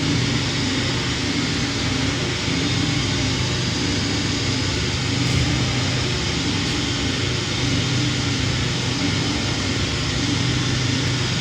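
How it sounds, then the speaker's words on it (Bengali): A washing powder mixing machine with a gear drive and a 10 HP Chinese motor runs as a constant, loud, dense mechanical drone, unchanging throughout with no talk. "এটি গিয়ার সিস্টেম একটি মেশিন ফোরফোরটি লাইনে চলতেছে আর ten horse motor Chinese motor"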